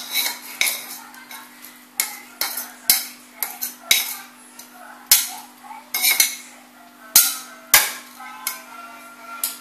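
Repeated pounding of chilies and shallots in a mortar for Sambal Padang, sharp clinking strikes at an irregular steady rhythm, close and fairly loud.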